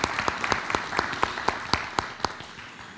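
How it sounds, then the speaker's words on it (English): Applause at a school board of education meeting for a board member, with a few distinct loud claps standing out in a fairly regular rhythm over a softer bed of scattered clapping across the room. "If you would give Mr. Old a round of applause here."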